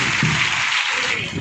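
Audience applause at a Bhagavat Katha closing ceremony at a Kali Mata temple in Moradabad, dense continuous clapping from a crowd filling the whole short stretch, loud and close with no talk over it.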